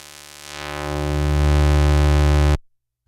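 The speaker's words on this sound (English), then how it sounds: "we also have a high pass filter, which does the other thing" Roland synthesizer tone passed through a high-pass filter, a steady buzzy sustained note that swells in volume over about two seconds, holds loudly, then cuts off abruptly into silence.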